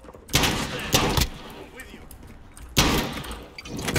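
Gunfire in Call of Duty: Modern Warfare during an in-house gunfight, with three loud, close bursts of shots separated by quieter gaps and a constant background of game noise.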